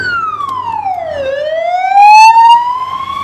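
A loud, close ambulance siren wails through long, falling and rising pitch sweeps with no talking.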